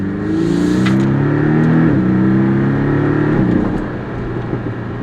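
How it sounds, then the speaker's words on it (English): A 2018 Porsche Cayman S engine revs loudly and close, its exhaust note climbing and dropping in pitch twice before settling into a lower rumble. "I can also just hear that exhaust. You can kind of hear it spooling"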